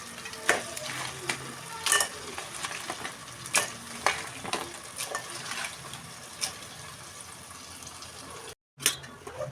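Crabs frying in a pan with tomatoes for a crab curry, a steady sizzle with wet crackling and occasional scraping stirs, close and continuous, briefly cut near the end.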